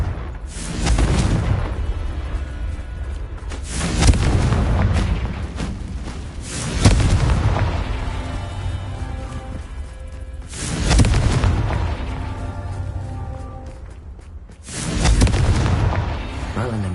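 Blasting-spell explosions in Hogwarts Legacy on PS5 go off as four loud, deep booms spaced a few seconds apart over a steady rumbling battle background, with some voice in the mix.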